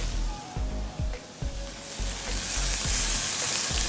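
Peppers, garlic and onions fry with curry powder in a pot on the stove, a close steady sizzle punctuated by regular stirring knocks, swelling to a louder hiss near the end.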